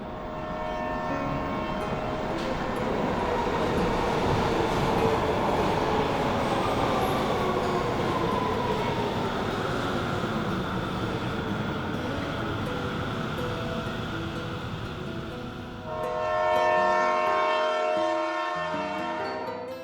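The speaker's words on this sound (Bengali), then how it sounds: "ইতিমধ্যে ট্রেন নিউ জলপাইগুড়ির কাছাকাছি এসে পৌঁছালো।" A train rumbles steadily along the rails, a continuous rolling roar with a drawn-out horn-like tone, easing near the end.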